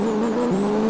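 A Corvette C6 launching in Pixel Car Racer, the engine held at a steady high drone with a slight pitch dip midway, loud and close with no talk.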